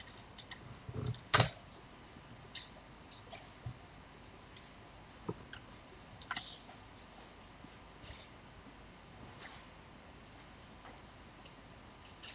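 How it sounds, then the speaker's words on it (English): Sparse keystrokes on a computer keyboard while working in 3D modeling software: scattered single clicks and taps at irregular intervals, faint and close, with long quiet gaps between them. "type L on your keyboard for lattice"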